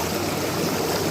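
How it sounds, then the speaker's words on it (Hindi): Water flows steadily along a cut channel feeding a traditional gharat water mill, a constant close rushing and babbling stream sound with no talking. "इस नहर के माध्यम से पानी को यहाँ तक ले जाया जाएगा"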